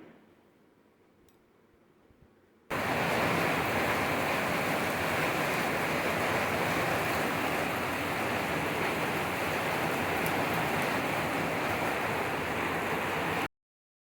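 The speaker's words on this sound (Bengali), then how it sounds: "এসে ঝমঝমিয়ে বৃষ্টি শুরু করেছে একবার আপনাদের আওয়াজটা শোনায়" Heavy monsoon rain pours down in a steady, loud, dense roar that starts abruptly after a quiet opening and continues unbroken until cutting off near the end.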